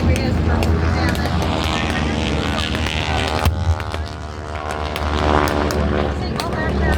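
Propeller aircraft drone steadily through a Pearl Harbor attack reenactment at an airfield, a continuous engine hum with harmonic tones persisting across the whole stretch, loud and fairly near, with crowd voices and talk over it.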